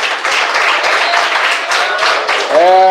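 A church congregation claps in praise during a Pentecostal service, a dense, steady wash of many hands that is loud and sustained, with a voice or tone rising over it near the end.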